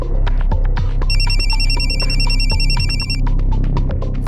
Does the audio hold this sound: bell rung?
no